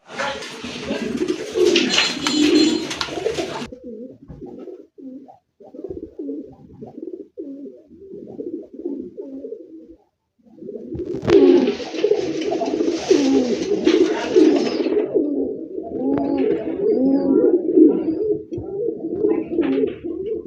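Fancy pigeons for sale at a market coo steadily in soft, rolling rounds throughout, close and fairly loud, with brief bursts of brighter noise at the start and again midway.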